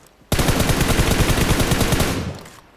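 A loud, sustained burst of rapid automatic weapon fire from PUBG Mobile starts abruptly and holds steady for about two seconds before tapering off.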